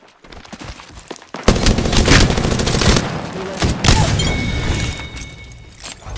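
Full-auto bursts from a Prowler gun in a video game rattle off in dense, loud volleys after a brief quiet start, with sporadic gunfire continuing and tapering toward the end.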